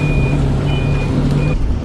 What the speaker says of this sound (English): the bus has had to reverse back for 5 minutes. And now it's doing it now